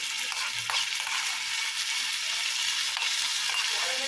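Nuts frying in hot ghee for Ramzan payasam, a steady, even sizzle and crackle throughout, close and moderately loud with no talking.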